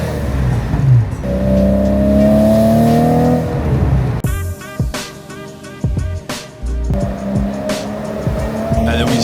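Convertible car on a drive in Germany, heard first as a loud, steady engine drone, then sharp cracks and pops as the engine revs, close and dominant, with no talking.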